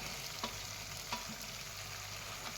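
Paneer stirred into a simmering gravy in a pan, giving a faint steady bubbling sizzle with two soft utensil knocks, no voices.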